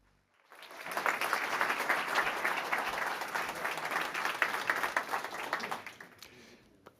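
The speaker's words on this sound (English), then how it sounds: "give a warm applause to Tim Hein" Warm applause from a conference crowd at the Northern Lights Summit 2024 greets Tim Hein, rising quickly from silence into a full, steady roar of hands and then tapering off near the end.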